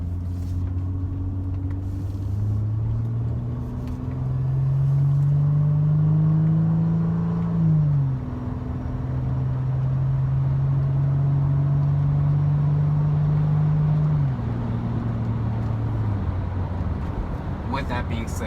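A 1998 Honda Accord V6 with an automatic transmission accelerates, its engine note rising steadily before dropping at a gear shift, then climbing again and shifting once more, heard from inside the car with road rumble underneath.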